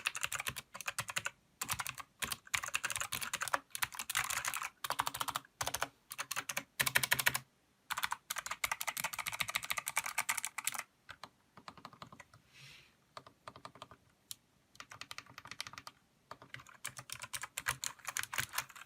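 Brisk typing on a SteelSeries Apex 5 keyboard, rapid clustered keystrokes close up with short pauses between bursts and a sparser, quieter stretch in the middle.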